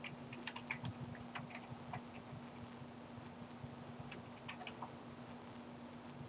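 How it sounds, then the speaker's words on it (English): Someone types a printer's IP address on a Mac computer keyboard: soft, quick, irregular keystroke clicks, fairly quiet and close, with no talking. "switch this to LPD and type in the address"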